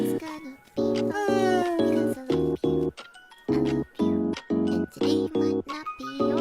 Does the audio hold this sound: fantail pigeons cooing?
no